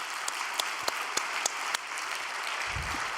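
An audience at a church gathering claps steadily for a couple, a dense, even wash of applause with a few sharper individual claps and a low thump near the end.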